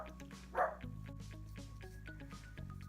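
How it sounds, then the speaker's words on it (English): A dog barks in the background, a short loud burst near the start, with steady tonal room sound and faint noise continuing around it. "That's my dog in the background."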